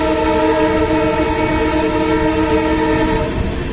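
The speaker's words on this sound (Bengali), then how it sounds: "দেখতে পাচ্ছ আওয়াজ কতটা বেশি, ডিজেল ইঞ্জিনে এই সমস্যা।" Diesel train running loudly through forest between Kolkata and Totopara, a sustained horn blaring over the steady rumble of the engine and wheels for the whole stretch, close and alone.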